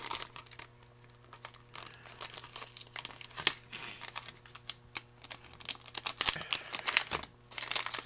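Resealable package of Asahi Calpis gummy candy being opened, giving close crinkling and crackling plastic with sharp irregular rustles that grow busier toward the end.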